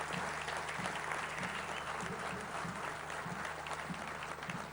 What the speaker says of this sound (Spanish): le brindamos un fuerte aplauso por la deferencia